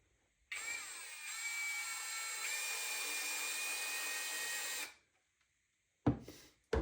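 A power drill with a number 2 Phillips bit drives a screw into wood for a handmade cross, a steady whine running about four seconds before stopping, then a brief second burst.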